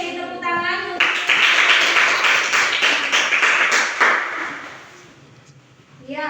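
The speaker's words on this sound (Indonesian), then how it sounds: "Oke, tepuk tangan." Audience applause at a classroom religion session at IAKN Ambon: a loud, dense burst of clapping lasting about three seconds that then fades out, with a voice speaking just before and after.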